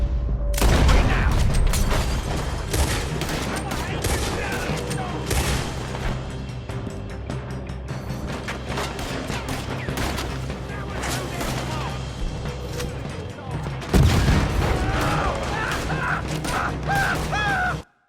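Rapid gunfire in a Red Dead Redemption 2 shootout, dense bursts of shots crackling almost continuously for the whole stretch, loudest near the start and again late on, with speech mixed in.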